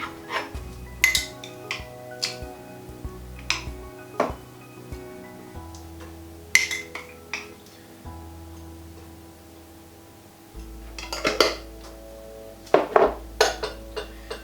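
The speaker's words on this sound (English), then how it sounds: "a large stock pot or large saucepan, whatever you've got" A large stock pot or saucepan with its lid off is handled in a kitchen while a sweet potato, chickpea and spinach curry is prepared, giving scattered metallic clinks and knocks of cookware and utensils, fairly close, with quiet gaps between.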